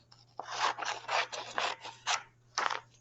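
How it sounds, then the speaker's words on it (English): Scissors snip through paper for a grammar interactive notebook in a series of close, crisp cuts, about seven rasping strokes in an uneven rhythm with short gaps, no talking. "I'm just going to cut,"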